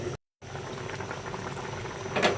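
Fish and potato curry bubbles in a covered pot, a steady close simmering patter with soft pops after a brief dropout, swelling slightly near the end.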